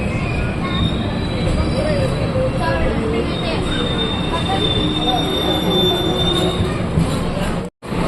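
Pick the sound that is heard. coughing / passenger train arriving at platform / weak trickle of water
passenger train arriving at platform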